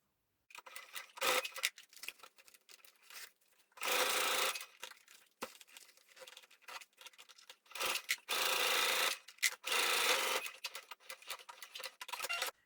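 A sewing machine stitches along the zipper of a fabric pouch. Close, loud whirring runs come in several bursts of one to two seconds, with quieter rubbing and handling of the fabric between them, and no talking.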